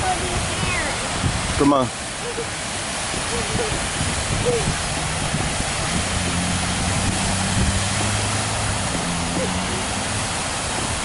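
Water from Buckingham Fountain in downtown Chicago rushes and splashes in a steady broad roar on a foggy day, with a low engine-like rumble beneath and a person speaking briefly.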